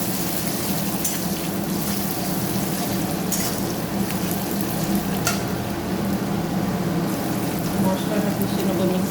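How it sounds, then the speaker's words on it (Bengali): Sliced onions fry in a pan for a katla fish curry with mustard and poppy seed, giving a steady, close sizzle that runs the whole time with faint stirring scrapes on top. "পেঁয়াজটা সুন্দর করে ভাজা ভাজা হয়ে আসছে"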